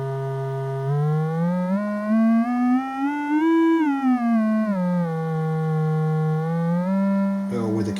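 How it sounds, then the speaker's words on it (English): A steady electronic sine tone from a prototype harmonic transformer synthesizer module, with a rich harmonic stack that glides upward, peaks, then slides back down, ending with a brief burst of noise. "we can adjust the frequency of the sine wave using the controls on the"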